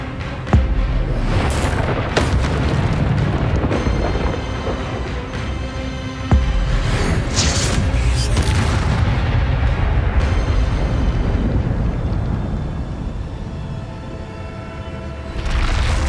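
Fiery spell blasts from the Incendio charm in Hogwarts Legacy, a loud continuous roar of booms and crackling bursts with sharp hits near the start and middle, dense and close throughout.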